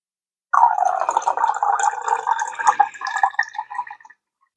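Melted butter poured from a pot, a close, continuous liquid trickle and splash lasting a few seconds before stopping, heard alone with no talk.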